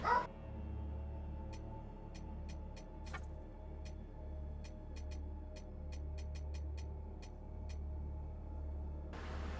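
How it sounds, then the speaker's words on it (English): Dogs bark in the background indoors, a series of faint, sharp, intermittent yips and barks spread across the stretch over a steady low hum of video game sound. "Sorry about my dogs in the background, y'all."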